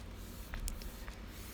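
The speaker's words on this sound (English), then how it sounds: "I'm going to just add a little bit more setting spray" Makeup setting spray misted over a finished face in a couple of short, soft hisses, faint and close against a quiet room.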